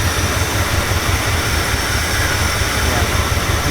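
An abandoned Dodge engine running after sitting for 17 years with a carburetor problem, a loud, steady, rough roar with broad hiss, close and continuous throughout, no talking.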